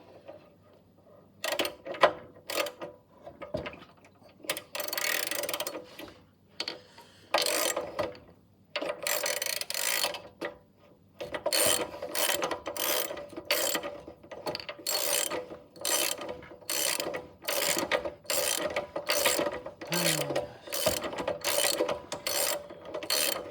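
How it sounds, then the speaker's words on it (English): A ratchet being cranked on a Honda GX160 engine under repair, with repeated bursts of rapid clicking pawl strokes and mechanical turning noises, loud and close, with short pauses between pulls. "I'm gonna get the ratchet"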